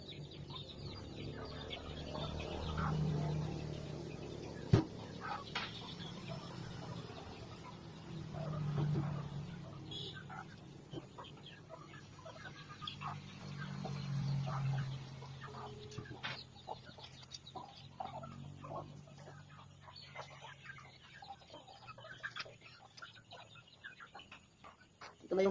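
Organic backyard chickens cluck and murmur in bursts while being fed on a farm, soft repeated calls rising and falling over quiet rustling, with a few sharper knocks and occasional distant voices.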